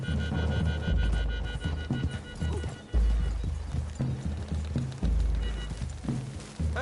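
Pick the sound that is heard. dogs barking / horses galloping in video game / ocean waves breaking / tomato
horses galloping in video game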